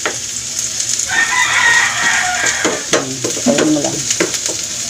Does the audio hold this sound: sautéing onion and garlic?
yes